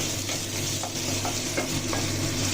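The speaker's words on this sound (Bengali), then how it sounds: "চিকেনটাকে সতে করে নিতে হবে।" Chicken pieces being stirred and sautéed in a pan, with a steady sizzle of frying broken by occasional scraping strokes of a spatula, close up and continuous.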